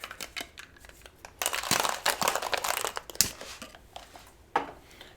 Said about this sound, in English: We're gonna give it a shake.